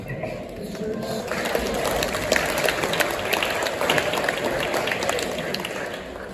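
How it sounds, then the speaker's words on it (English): A church congregation gives a short welcome clap for visitors, a steady, moderately loud patter of many hands filling the room evenly. "so we can give you a wee welcome clap"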